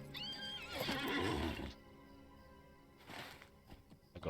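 A horse neighs in the Lord of the Rings Online video game, one loud whinny lasting over a second, followed by quieter hoof clops and faint ticking noises.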